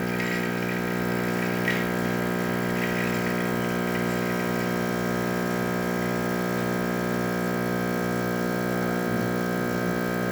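Rancilio espresso machine whose water pump won't build pressure, running steadily through a two-ounce shot extraction; a continuous droning hum with steady harmonic tone holds for the whole stretch, with no talking.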